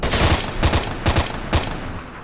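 Four bursts of rapid automatic gunfire in S.T.A.L.K.E.R. Shadow of Chernobyl, loud and close, each a quick rattle of shots with short gaps between, no talk over them.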